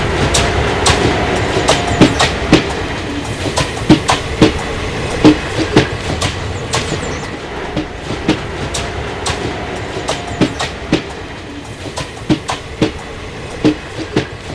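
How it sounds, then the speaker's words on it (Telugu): A passenger train rolls through a station with a loud, continuous rumble and a steady clickety-clack of wheels over rail joints, close by and without any talking. "ట్రైన్ వచ్చేసినట్టుందే."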